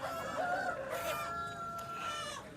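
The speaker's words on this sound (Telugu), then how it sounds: "ఇక్కడ కూడా కోళ్ళే ఉన్నాయని చెప్పుకోవచ్చు" Country chickens at a muddy open-ground chicken market, some tied together by the legs: a rooster crows loudly and nearby hens cluck and chatter over steady background noise.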